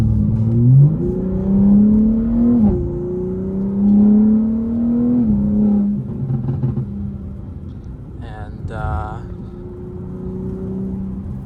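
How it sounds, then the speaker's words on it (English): A BMW M4 Competition (G82) engine in sport mode revs up and settles repeatedly, rising and falling in pitch with a low rumble and some voice mixed in. "as you guys can hear, I've put that car in sport now"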